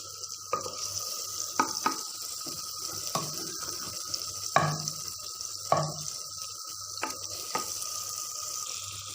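Eggplant bharta being stirred together with a spice paste in a pan, with a soft ongoing sizzle and a few distinct spoon scrapes and knocks against the pan at irregular intervals.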